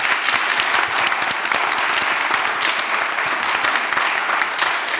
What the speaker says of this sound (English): let's give our panelists that were really fantastic in this session a big round of applause.